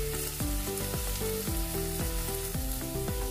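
Vegetables sautéing in a pan for shrimp sweet and sour give a steady, close sizzle that runs through the whole stretch, set under loud rhythmic background music.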